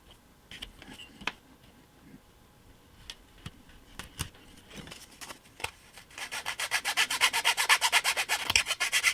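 A small part for a model railroad kit is cut by hand: scattered quiet scrapes and clicks give way to a fast, regular run of close rasping strokes that grows louder toward the end.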